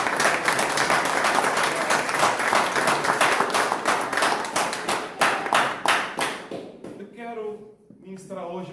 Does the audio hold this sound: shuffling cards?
no